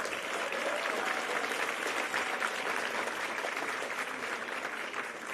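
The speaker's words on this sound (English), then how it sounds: "Let's give another round of applause for all of the incredible spellers here." An audience at the Braille Challenge Finals award ceremony applauds the spellers with a full, continuous wash of clapping that stays level for about five seconds before easing slightly at the end.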